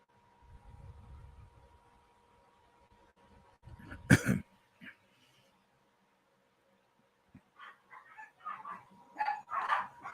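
A dog gives one sharp, loud bark after a quiet stretch, then follows with a scatter of shorter yelping, whining sounds.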